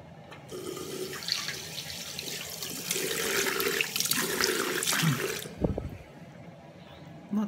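Tap water runs and splashes while a Lidl disposable razor is washed, a close, steady rushing stream that swells in the middle, then stops with a few drips and a short clunk.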